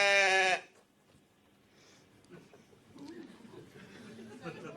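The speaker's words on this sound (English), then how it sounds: "Wrong, it's a goat." Played recording of a goat bleating, a short loud bleat at the start, followed by quiet murmuring and chatter from people nearby.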